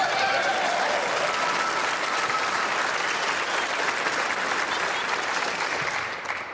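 A studio audience at a quiz-style show claps in a dense, sustained burst of applause that fills the room and tapers off slightly at the end.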